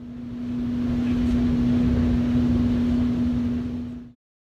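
The Snowdon Mountain Railway engine is heard from close by during the climb up the escarpment: a steady, loud mechanical drone with a sustained low hum that runs for about four seconds before cutting off abruptly.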